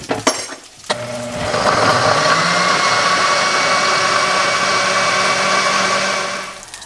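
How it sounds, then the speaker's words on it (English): A blender whirs steadily at full speed through a salsa of tomatillos, red chiles, garlic and salt, starting after a few clinks and running loud and continuous until it spins down at the end. "When you use Chile California or Chile puya, you need to blend this for a good minute and a half."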